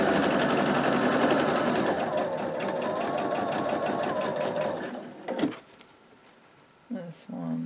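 Sewing machine stitching around a quilt block, a fast rattling run of needle strokes for about five seconds that stops, followed by a few brief handling clicks and someone speaking close by.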